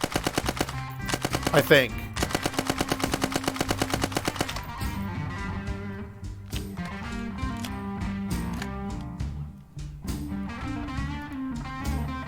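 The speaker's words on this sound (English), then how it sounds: "Kind of sounds like an MP40, actually." Full-auto bursts from an MP40 submachine gun in the game ARMA 3 S.O.G. Prairie Fire, a rapid rattling stream of shots over the first few seconds, then game music and effects with a brief voice.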